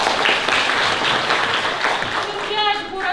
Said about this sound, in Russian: Еще раз аплодисменты учителю.